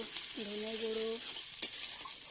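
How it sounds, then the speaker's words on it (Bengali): Spices stirred and fried in a pan for khichuri, a continuous close sizzle with a brief scrape of the spoon, while a short tonal beep sounds partway through. "ভালো করে নেড়ে নেব একটু ভাজা হয়ে গেলে তারপরে দেব জিরে গুঁড়ো লঙ্কা গুঁড়ো"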